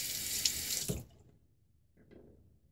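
Water from a bathroom tap gushes for about a second while a razor is rinsed, then cuts off, leaving faint drips and small clinks.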